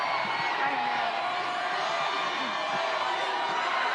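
Dense crowd noise with cheers and whoops from spectators lining the Denver Nuggets NBA championship parade route, a steady loud roar throughout, with occasional nearby voices talking over it.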